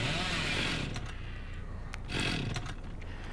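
A chainsaw revs in Dead by Daylight, a loud, rasping roar that swells, dips and surges again over a few seconds, with speech faintly mixed in.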